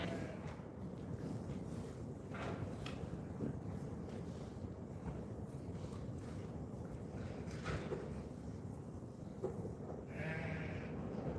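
Sheep on a farm bleat intermittently at a distance, faint calls scattered over steady outdoor wind noise buffeting the microphone, with no talking.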